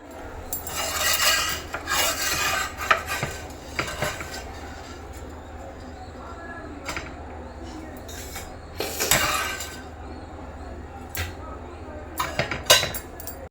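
Spoons scraping and clinking against steel plates during a family meal on a temple trip in Tamil Nadu. The scrapes and rattles come in bursts with quieter gaps, close and fairly loud.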